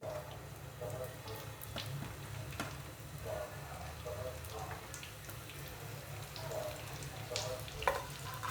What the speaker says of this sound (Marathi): कांदा चांगला गोल्डन ब्राऊन होईपर्यंत भाजायचा आहे.